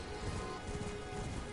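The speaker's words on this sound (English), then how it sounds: "Well, it's not sunset, it's raining." Rain falling steadily as a dense, continuous hiss with soft low rumbling, fairly faint and unbroken throughout.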